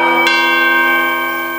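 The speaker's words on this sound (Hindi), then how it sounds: "कोई एक कदम भी आगे बढ़ाए तो खट से घंटी की आवाज आ जाए।" A bell rung inside a house during a religious storytelling session gives a single loud metallic strike that hangs on in a bright, slowly fading ring, heard alone.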